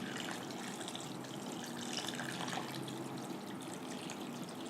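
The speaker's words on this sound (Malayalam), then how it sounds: "ഇതിനകത്ത് നമ്മൾ സാധാ വെള്ളം ഒഴിക്കും, അപ്പോൾ ആ നാരങ്ങ നീരിന്റെ ടേസ്റ്റ് പോകാൻ" Plain water is poured into a cooking pan for shahi matar paneer, making a quiet, steady gushing trickle that continues without a break.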